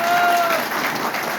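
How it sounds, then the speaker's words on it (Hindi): A crowd at an RCM business event in Bhagalpur claps loudly and continuously to welcome a guest speaker, a dense, steady wash of applause with crowd noise filling the whole moment. "अभिषेक सर का एक बार जोरदार ताली से स्वागत कर सकते हैं क्या?"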